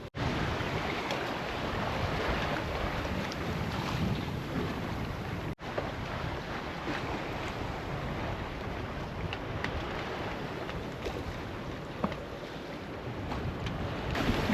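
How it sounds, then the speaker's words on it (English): Strong wind buffets a sailboat underway at sea off the coast toward Ensenada, Mexico, with the wind building to about 23 knots under a small craft advisory; a loud, steady roar of wind and water fills the whole stretch with constant microphone buffeting. "Wind's building to about 23 knots, and it's still pretty chill."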